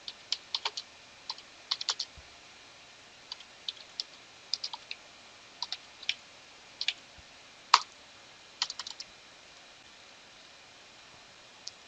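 Commands typed on a computer keyboard while installing Drupal CMS on Rocky Linux 8.6, heard as scattered bursts of light key clicks, some quick and clustered, others isolated, fairly close with no talk.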